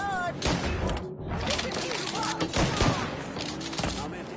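A rapid fusillade of gunshots crackles through a Mafia 3 street firefight, dense overlapping pops at moderate distance, with shouting voices and game dialogue layered over the shooting.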